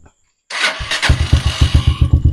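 A Honda TMX125 motorcycle engine cranks and catches after a short silence, then settles into a loud, close, steady rhythmic idle thump with no talking.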